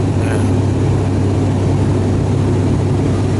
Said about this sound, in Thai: ตัวเครื่องนะครับก็คือมีใบพัดอยู่ สองจุดนะครับสองเครื่องยนต์